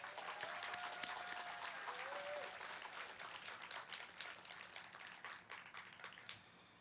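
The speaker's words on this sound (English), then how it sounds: "Let's give them a round of applause, please." Audience applause for graduates at a 2021 transition school graduation ceremony, steady, dense clapping from a large crowd that carries on for the full stretch and slowly thins toward the end.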